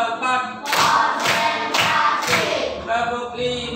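Fifth-grade pupils in an Indonesian classroom play a clap game, giving a run of four sharp, evenly spaced group claps that ring out loud between children's chanting voices.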